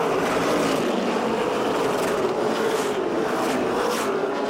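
Stock cars racing at Motordrome Speedway in the Steel City 100 give a steady, loud, continuous engine roar with a broad wash of noise and no talk.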